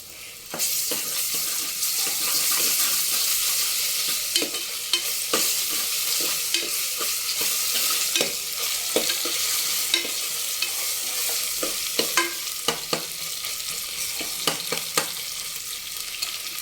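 Ginger garlic paste frying in oil with browned onions, a steady close sizzle throughout with repeated sharp scrapes and clicks of stirring in the pan.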